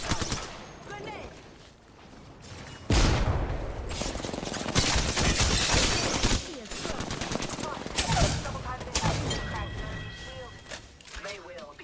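Automatic weapon fire and loud bursts from a busy Apex Legends firefight at a competitive ALGS match, with layered rapid shots and impacts running through the clip alongside game sound effects and some talk.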